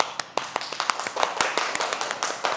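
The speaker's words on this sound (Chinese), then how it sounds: "给你们自己鼓掌。" Children clap together after a dance lesson: a run of sharp, uneven claps at close range, some louder strikes standing out, with no talk.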